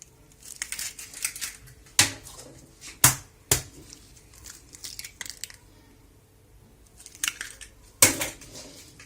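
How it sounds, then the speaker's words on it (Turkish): Two eggs are cracked into grated potatoes in a bowl, with sharp shell knocks and clinks against the rim and brief wet splats between quiet pauses; no talking. "Şimdi onları bir güzel içine 2 tane yumurta kırıyorum"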